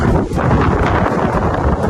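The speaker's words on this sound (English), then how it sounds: "quite windy and drizzling, but going well" Strong wind buffets the microphone on a Scottish mountain hillside in drizzle, a continuous low roar with rumbling gusts, no voices present.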